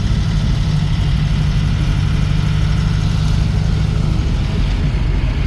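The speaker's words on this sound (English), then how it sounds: "I can hear the exhaust hitting in the back." Steady low engine rumble at idle with a throaty exhaust note and a backfire, continuous and fairly close, no voices.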